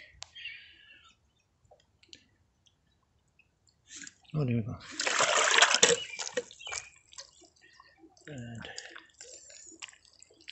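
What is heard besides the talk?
drip irrigation float trip releasing water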